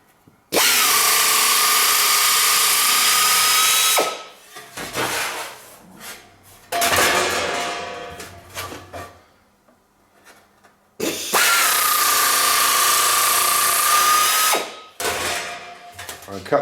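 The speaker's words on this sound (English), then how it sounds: "This is a tin snip nibbler, so it's very easy." A tin snip nibbler chews through sheet metal on a 1930s barn-find pickup rebuild, loud and close in two long, steady buzzing passes with rattling, clanking pauses between them.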